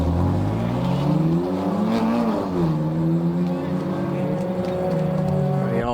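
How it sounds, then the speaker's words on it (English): Race cars idle and rev in the pit lane at Donington Park during a club endurance race, their engine notes rising and falling as they move past, with voices audible underneath. "That's the atmospheric pit lane shot."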